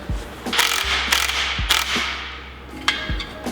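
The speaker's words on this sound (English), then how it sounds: "we're going to loosen off the nuts, but not take them off completely" A ratchet wrench clicks in short bursts while loosening ball joint nuts on a Classic Mini, with several distinct ratcheting strokes and clanks close by.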